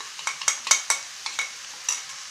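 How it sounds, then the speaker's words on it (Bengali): A spoon scrapes and stirs chicken with masala in a pan for Chicken Kolhapuri, soft scraping strokes in an irregular rhythm over a faint sizzle, fairly quiet and close. "এটাকে ভালো করে মিক্স করে নেব"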